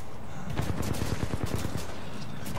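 Rapid automatic gunfire from Titanfall 2 rattles in quick bursts close by, a dense string of sharp shots.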